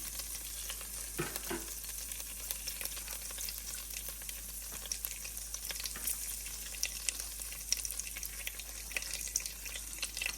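Bay leaves dropped into hot oil for an Australian lamb curry give a steady, close sizzling hiss that runs throughout, with faint stirring under it and no talking.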